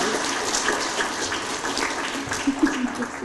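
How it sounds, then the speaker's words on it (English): Steady round of applause at a school DARE ceremony honoring essay winners, a dense wash of many claps from a seated audience, moderately loud and even throughout. "One more round of applause for essay winners."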